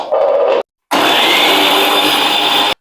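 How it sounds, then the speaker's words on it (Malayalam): Electric mixer grinder blending grated coconut with water, a loud steady high whine that starts, cuts out briefly, then restarts and runs continuously close by. "അപ്പൊ ഞാൻ കുറച്ച് വെള്ളം കൂട്ടി ഒന്ന് മിക്സിയിൽ അടിച്ചെടുക്കട്ടെ"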